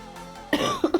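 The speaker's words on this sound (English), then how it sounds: "I'm gonna cough a lot off to the side." A single person coughs close up, in a sharp burst followed by two shorter hacks, with quiet room tone before it.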